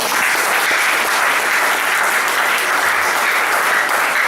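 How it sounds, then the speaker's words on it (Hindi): A church convention congregation claps hands together in a loud, dense, continuous burst of applause that holds steady for several seconds with no voices rising above it. "आपने ये ताली खुदा के लिए बजाई या अपने ब्लड प्रेशर के लिए?"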